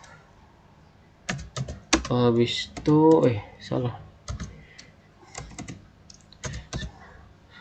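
Typing a database query on a computer keyboard: rapid, close key clicks in uneven bursts, heard under someone talking.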